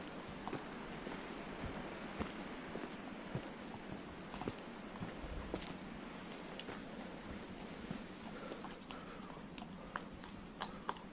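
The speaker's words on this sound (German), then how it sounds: "Da kommt ein Pferdchen." A horse walks along a hilly hiking path near the Dreiländerpunt at Gemmenich, its hooves clip-clopping in an uneven rhythm against steady outdoor background noise, with faint birdsong.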